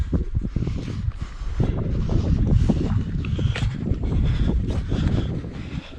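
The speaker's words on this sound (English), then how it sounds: "The wind today is relatively weak." Outdoor wind on a hilltop above a lake by old radio towers, steady gusts buffeting the microphone loudly and continuously with rumbling low noise and no talk.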